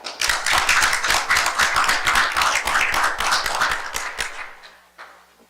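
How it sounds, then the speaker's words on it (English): An audience claps loudly and continuously for several seconds, then the applause thins out and fades to a few scattered claps. "One last big round of applause"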